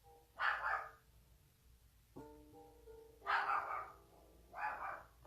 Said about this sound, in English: If she don't hush, that's Bella barking